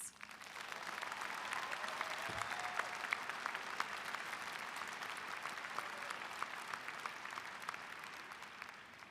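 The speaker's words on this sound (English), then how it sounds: "Please join me in applauding these outstanding students." Sustained applause from a convocation audience honoring graduating students, a steady dense wash of clapping from a large crowd throughout, moderately distant and even in level.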